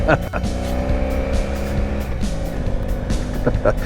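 A car passes close by a motorcycle on a tight mountain switchback. Its engine swells and fades beneath the bike's steady drone and wind rush, while a rider talks over the top.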